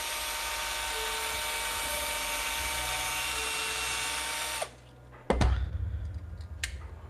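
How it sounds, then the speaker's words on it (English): A power drill with a roughly 5/32 inch bit boring into the body of a 1983 Chevy Silverado, a steady loud whine for several seconds that stops abruptly, followed by sharp knocks and clatter nearby. "This is a drill bit, about 5/32 inch drill bit."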